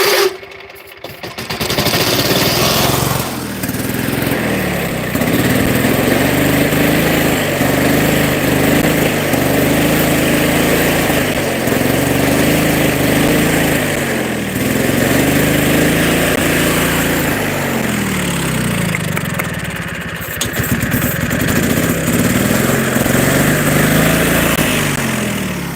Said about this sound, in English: See if I can crank it up. Get it running.